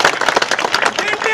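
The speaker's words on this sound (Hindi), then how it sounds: "सो तालियां मार दो थोड़ी भैन की लड़ाई" An audience claps at a Congress party political meeting in Shimlapuri, Ludhiana, Punjab, producing a brief, dense burst of crowd applause with rapid overlapping hand claps.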